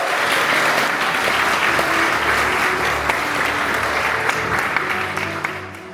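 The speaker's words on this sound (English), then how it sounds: "This is your home turf, so feel free to cheer extra loud." A large audience of Polish students, teachers and guests at an eco-project conference hall applauds and cheers, dense continuous clapping filling the room before gradually thinning out toward the end.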